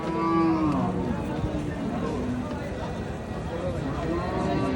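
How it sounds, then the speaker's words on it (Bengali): Bulls lowing repeatedly amid a noisy crowd at a Saturday cattle market in Paragram, deep drawn-out moos overlapping with background chatter and bustle. "শনিবারের পাড়াগ্রাম গরুর হাটে সুন্দর কিছু এবং বিশাল কিছু ষাঁড় উঠেছে।"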